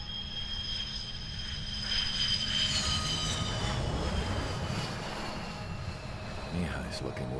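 An enemy fighter jet roars in the video game Ace Combat 7, a steady, close engine drone with whining tones sweeping across it, while someone talks over it throughout.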